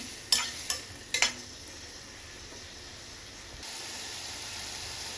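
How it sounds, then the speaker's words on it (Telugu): Paneer pieces sizzle softly in a pan as a spatula clinks and scrapes a few times near the start, then a faint steady hiss of frying continues, close but quiet. "దీంట్లోనే పన్నీర్ వేసుకొని ఫ్రై చేసుకుంటున్నాను"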